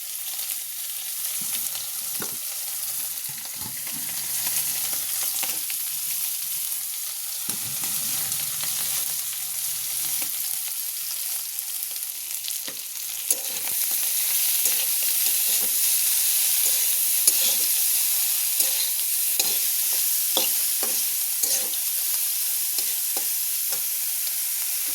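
Carrots and mixed vegetables stir-frying in a pan for chowmein give a steady, close sizzle and hiss, with scattered clicks and scrapes of stirring that grow livelier midway. No voices are heard.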